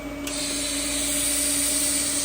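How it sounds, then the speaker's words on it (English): Argon shielding gas hissing on at a TIG welding torch during exhaust wastegate fabrication, a steady, loud, close hiss with a constant tonal hum underneath. "When you hear the gas turn on, the gas is argon."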